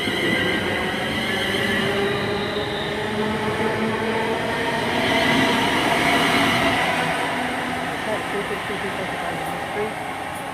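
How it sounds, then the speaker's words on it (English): A London Midland Class 350 electric train at Coventry station, a loud, continuous rumble with motor whine and wheel noise, running close throughout, with people talking beneath it. "is a 12:50 to Birmingham New Street, which is a London Midland service from Northampton"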